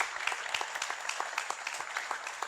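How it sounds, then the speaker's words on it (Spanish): A crowd at a gathering at the Valle de los Caídos applauds for Father Cantera, with sharp individual claps standing out over a dense, moderately faint ovation that continues evenly throughout. "Podríamos pedir un aplauso para el padre Cantera"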